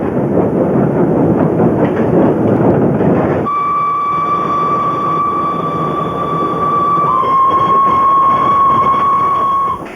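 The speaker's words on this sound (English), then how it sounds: "India, where more than 20 vintage steam trains are still in service." A vintage steam train in service in India rolls along the rails, a loud steady rumble giving way to a long sustained whistle that holds for several seconds with a slight pitch drop.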